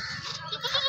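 A goat bleats in short wavering cries over under a second, close and clear, with a faint voice underneath.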